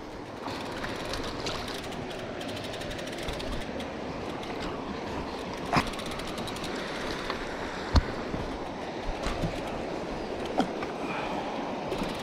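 Steady rushing of flowing river water around a motorbike fording a river in Quirino, Ilocos Sur, a continuous broadband wash with occasional sharp splashes and knocks, no talk.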